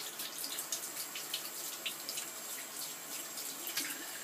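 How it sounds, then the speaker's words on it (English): Tepid tap water runs steadily from a faucet into a sink, a soft continuous splashing hiss with small droplet spatters, fairly quiet and with no talking. "for this next one, we're just going to turn the water on"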